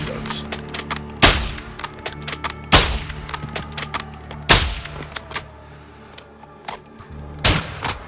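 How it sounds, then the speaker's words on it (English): Gunfire in Call of Duty Modern Warfare 2 (2022), sharp sporadic shots and short bursts, several loud close cracks spaced a second or two apart among quieter distant pops, over a low steady background hum. "Sir, they're returning fire."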